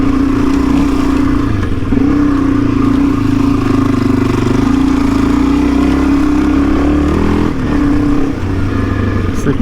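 A truck crossing the Simpson Desert drives on, its engine droning loud and close with a steady rumble and rattling clatter, a few shifts in pitch as it works along.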